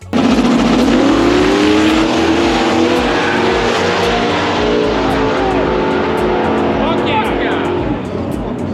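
A no-prep drag race car makes a full pass at a drag strip, its engine roaring loud and close as it accelerates hard and sustains a high-revving blast, with voices faintly audible beneath.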